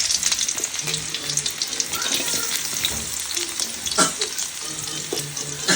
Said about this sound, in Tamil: சின்ன வெங்காயம் போடலாம் தெரிக்குது